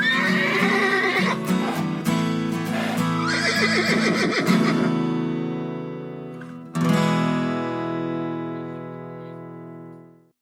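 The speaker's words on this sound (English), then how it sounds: "Two domestic palominos fight each other to decide." Loud, shrill whinnies from two domestic palomino horses fighting ring out close by: a long run of squealing neighs, a short pause, then another drawn-out whinny that fades away.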